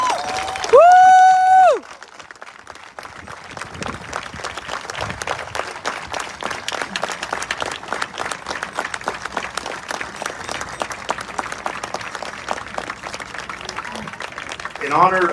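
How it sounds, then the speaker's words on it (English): A crowd at a football championship parade event applauds and cheers for a fallen soldier's family, the steady clapping sustained and fairly close, with a single loud whoop at the start and scattered voices under the ovation. "If you all would please stand, and let's give them a round of applause."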